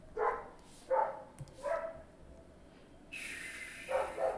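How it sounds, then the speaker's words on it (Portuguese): A dog barks outdoors in Brazil, four or five short, faint, muffled barks spaced about a second apart, with a brief hiss of distant noise between them. "Um cachorro latindo aí que tá me distraindo."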